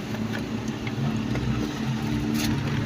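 A car pulls away in first gear, its engine humming steadily at moderate revs from inside the cabin with no talk.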